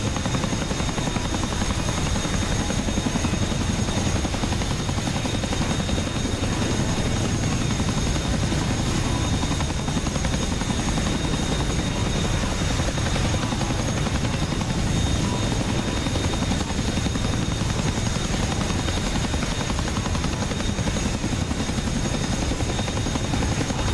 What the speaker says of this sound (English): Holy crap, that Chinook almost ate shit.